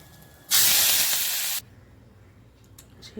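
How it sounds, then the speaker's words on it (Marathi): A loud burst of sizzling as curry leaves hit hot oil with crackling mustard seeds in a tempering for dhokla, a sharp hiss lasting about a second before dying back to quiet crackles. "मोहरी छान तडतडायला द्यायची आहे"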